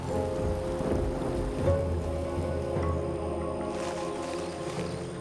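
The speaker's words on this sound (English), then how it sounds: "And with beast we can use rain." A rain spell cast in Divinity: Original Sin 2 brings a continuous wash of falling rain, layered over sustained tonal game music at moderate loudness.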